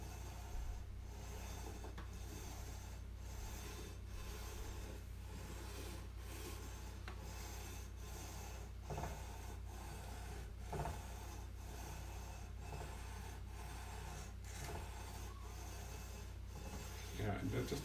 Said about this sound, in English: This leveling beam is so heavy that I don't have to put any pressure on it at all.